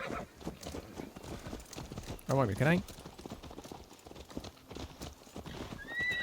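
Horse hooves clip-clop in an Assassin's Creed video game, a short burst of steps with a whinny in the middle while a player speaks over the game sounds.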